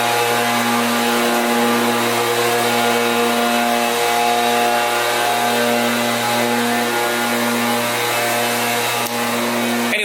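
A leaf blower runs close by near a DC2 Honda Integra, a loud, steady droning whine with strong harmonic tones that holds continuously without letting up.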